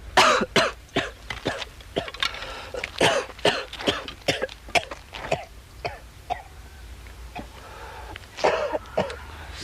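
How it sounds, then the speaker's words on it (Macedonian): An elderly man coughs and clears his throat repeatedly in a rough, irregular series of harsh bursts, close and fairly loud, with brief pauses between fits. "Се поубаво си кашлаш."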